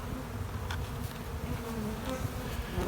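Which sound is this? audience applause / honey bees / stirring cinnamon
honey bees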